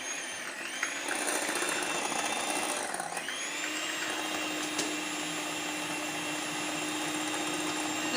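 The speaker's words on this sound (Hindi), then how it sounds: "अब मैं इसको मिक्स कर लूँगी इसी बीटर की मदद से" An electric hand beater whirs steadily through eggs and sugar for a simple no-oven cake batter, a continuous close motor drone with a brief dip in pitch near the start, and no talking.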